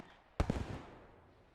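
A grenade explosion in a competitive multiplayer shooter match, one sharp blast followed by a short rumbling tail, moderately loud against a quiet background.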